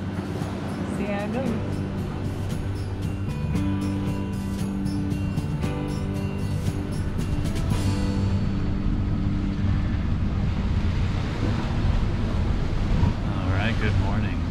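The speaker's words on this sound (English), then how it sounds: "It's super windy." Strong wind buffets the microphone aboard a sailboat at sea en route to Greenland in a constant roar, with low droning and rattling underneath, loud and unbroken throughout.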